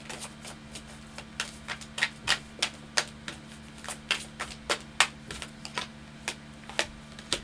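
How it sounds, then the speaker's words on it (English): Tarot love cards being shuffled, a steady series of crisp riffling flicks and taps at close range, with a low steady hum beneath and no talking. "let's pull a couple of love cards here"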